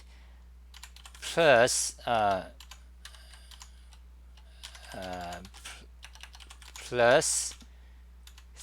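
JavaScript code typed on a computer keyboard, with soft, quick key clicks in short runs between and under a person's talking.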